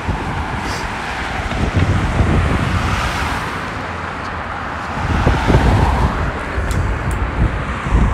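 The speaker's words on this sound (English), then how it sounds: "there's quite a bit of traffic coming" Road traffic passes in Regina, cars swelling and fading in several rushing waves over wind buffeting, loud and close to the roadside.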